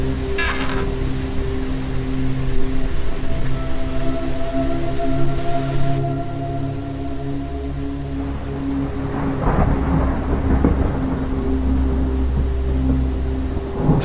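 Heavy rain with wind, steady and close, while deep thunder rumbles roll through it in long swells, one heavier crack near the middle, and a low drone running underneath.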